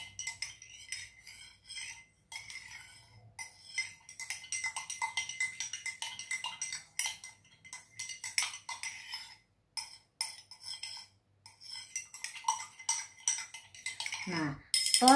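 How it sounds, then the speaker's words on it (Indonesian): A water-based solution tinted with a drop of food coloring being stirred in laboratory glassware, a rapid run of light tinkling clinks of a glass rod against the glass, close and repeated in bursts over about fifteen seconds. "Lalu kita aduk."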